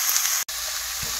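Octopus fried rice stir-frying in a hot pan, a loud, steady sizzling hiss heard close, broken by a split-second gap partway through, with no talking.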